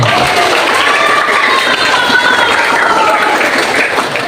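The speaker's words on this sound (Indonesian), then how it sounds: "Tepuk tangan untuk teman-teman SDN 1 lainnya" Elementary schoolchildren from SDN 1 applaud together at a school religious gathering and Qurban celebration, a steady, dense clapping that holds at an even level throughout, with faint voices mixed in underneath.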